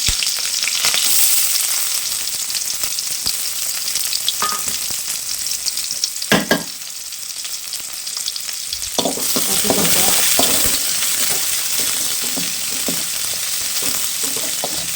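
Shallots frying with mustard seeds in a warped pan, a steady close sizzle with scraping stirs and clattering strokes, louder crackling bursts midway, and no talk over it.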